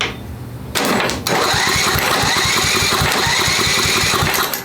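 A Tecumseh 10 hp engine on an old Craftsman riding lawnmower, water-damaged, cranks after fuel is poured into the carburetor, a loud rapid chugging of the starter and engine that continues steadily up close.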